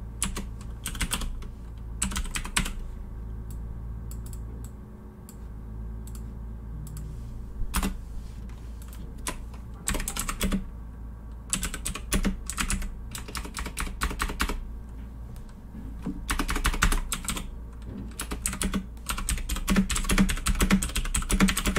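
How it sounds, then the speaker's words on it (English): Rapid clicking keystrokes on a computer keyboard come in bursts with short pauses, close and steady over a low background hum. "Keyboard sounds."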